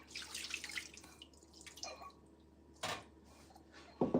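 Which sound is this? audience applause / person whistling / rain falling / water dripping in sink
water dripping in sink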